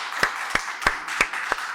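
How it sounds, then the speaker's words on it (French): Scattered clapping for a contestant on a dating show, a handful of distinct, evenly spaced claps over a steady murmur of room noise, fairly close. "Applaudissez-le s'il vous plaît."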